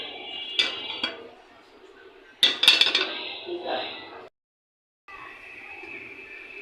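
A metal wok set on a stove burner for heating oil, with a few clanks and clinks of cookware, a sharp metallic clatter in the middle, then brief silence before a faint hiss returns.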